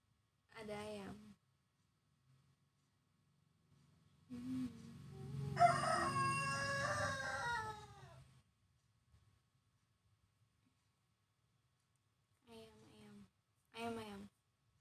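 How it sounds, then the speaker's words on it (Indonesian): A rooster crows once, long and loud, in an indoor live-stream setting, with short bursts of a person talking before and after it. "Itu ayam aku."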